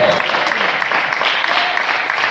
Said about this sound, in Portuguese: Desocupe as mãos e glorifique a Deus com as palmas.